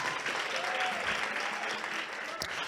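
Audience applause at an outdoor jazz festival show for young people, a steady dense wash of clapping hands that holds at an even, fairly loud level throughout with no talk over it.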